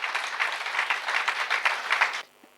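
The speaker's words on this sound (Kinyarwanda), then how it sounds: "Mwagakomya amashyi menshi cyane." A church congregation applauds during a sermon, a dense burst of clapping that holds steady for about two seconds and then stops.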